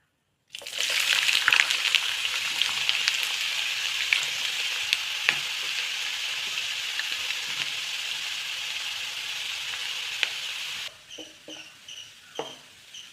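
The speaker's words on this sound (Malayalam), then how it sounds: "എണ്ണ ചൂടായിട്ടുണ്ട് അതിലോട്ട് നമുക്ക് ഇഞ്ചി വറുക്കാനിടാം" Ginger frying in hot oil for an Onam sadya inji curry gives a steady, close, bright sizzle for about ten seconds. It then drops to a quieter crackle with a few soft stirring taps.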